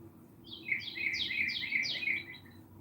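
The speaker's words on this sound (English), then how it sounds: "I'm listening to birds chirping in the background." Faint outdoor birdsong: a short run of bright, repeated chirps from one bird at a distance over a low, steady background hum.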